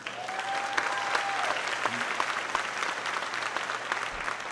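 Steady, moderately distant crowd applause at a school moving-up ceremony, with scattered sharper claps standing out over the continuous wash for several seconds.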